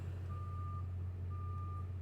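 At a truck stop, a reversing truck sounds its backup alarm: two long, steady electronic beeps separated by a pause, heard over a deep engine hum.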